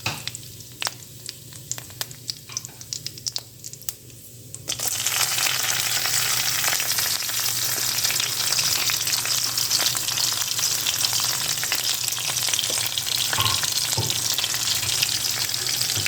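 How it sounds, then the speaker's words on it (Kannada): Curry leaves and chopped green chillies hit hot oil in a tempering for cucumber poha. It starts with quiet clicks and light scraping, then a loud, steady sizzle bursts up and continues with occasional stirring. "ಒಂದು 4 ಹಸಿಮೆಣಸನ್ನು ಹೆಚ್ಚಿಕೊಂಡು ಈ ಒಗ್ಗರಣೆಗೆ ಹಾಕಿಕೊಳ್ಳೋಣ"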